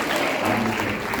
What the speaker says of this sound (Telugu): అందరూ చప్పట్లు కొడుతూ ప్రభువుని స్తుతిస్తాం